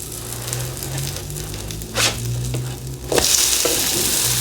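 Buttermilk blueberry pancakes fry on a griddle with a steady, close sizzle, broken by a couple of sharp flipping scrapes. The frying grows brighter and louder after the last flip, and there is no talking.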